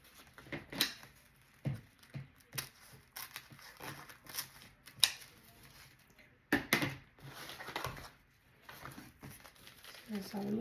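Scissors snip through rope while making a garland, giving several short, close crisp cuts and crinkling rustles scattered between quiet pauses, with light handling noise.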